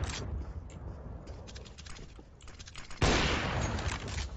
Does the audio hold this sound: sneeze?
no